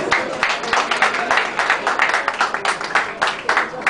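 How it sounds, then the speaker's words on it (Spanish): An audience at an awards ceremony applauds with a steady patter of claps from a medium-sized crowd, moderately loud and continuous, with a voice faintly present. "Un buen aplauso,"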